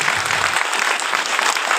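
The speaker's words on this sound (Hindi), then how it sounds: "ताली बजाएंगे।" An audience claps together at a Hindi religious sermon, a dense steady round of applause filling the room throughout with slight swells, fairly close.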